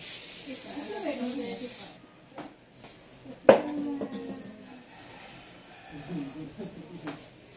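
Hair spray net hissing in short bursts from a can during at-home hair styling, one sharp spray standing out amid softer sprays, with women chatting around it.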